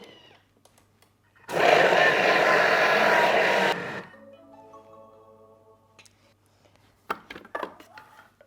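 A kitchen mixer at speed 7 churns self-raising flour dough in a loud, steady roar lasting about two seconds before cutting off abruptly, followed by quiet and a few scattered clunks.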